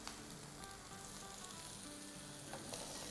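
Garlic sautés in a pan for a prawn pulao, giving a continuous, fairly soft sizzle and crackle with no talking.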